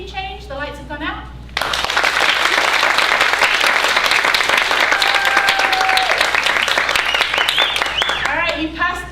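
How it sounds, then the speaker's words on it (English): Before a theatre performance of Shakespeare's Twelfth Night, an audience bursts into loud, sustained clapping practice, with brief talk heard just before and after it. "we're going to practice our clapping now"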